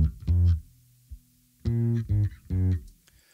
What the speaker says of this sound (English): a compressor with a sidechain from the kick drum